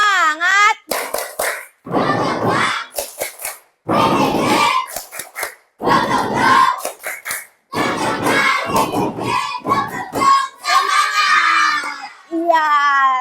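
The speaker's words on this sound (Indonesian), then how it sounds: "Coba kita tepuk semangatnya dulu yuk. Tepuk semangat." Children at school perform the tepuk semangat clapping chant, shouting rhythmic words in unison between bursts of hand claps, loud and close, with an adult's voice leading.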